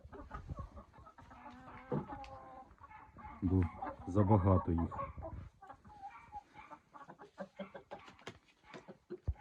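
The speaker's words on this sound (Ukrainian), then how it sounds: "Красуні курочки." Chickens cluck and murmur nearby in a busy village farmyard chorus, with a louder burst of clucking midway, while a person speaks briefly.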